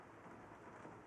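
Steady rain with a low rumble of thunder in the video game Rain Code, a dense, continuous wash of falling water heard on its own without any voices.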